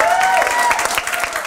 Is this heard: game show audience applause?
yes